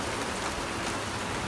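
Steady winter rain falls in Massachusetts, a continuous even hiss of drops on surfaces with no distinct breaks.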